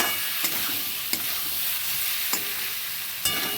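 Cumin, coriander, bay leaf, dry chili and pepper frying in hot oil in a home kitchen pot, a steady broadband sizzle with a few sharp stirring clinks at intervals, close and fairly loud, no talking.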